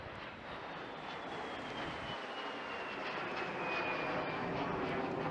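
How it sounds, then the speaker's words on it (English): A de Havilland Vampire FB.52 twin-boom jet flies a display at an air festival, its engine a broad, steady roar that swells slightly as it passes, heard from a distance. "It's not the only twin-boom aircraft coming to display with us today, George."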